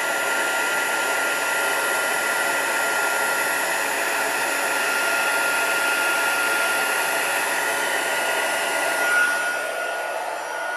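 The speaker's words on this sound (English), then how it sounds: "turn off the heat gun" Heat gun blowing for heat embossing on a card, a loud, even whooshing roar held steady for about eleven seconds, close and alone.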